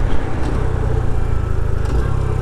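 A Honda Trail 125 Hunter Cub motorcycle's small engine rasps loud and close with wind rush, its pitch pulsing and shifting through a quick heel-toe downshift on a cold backroad.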